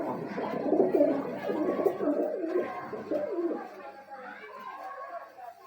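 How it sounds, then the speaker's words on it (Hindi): Female pigeon at a Gujranwala breeding loft cooing in soft, repeated low rolling calls, fairly close, with faint chatter in the background. "ऐसी कबूतरी है ये।"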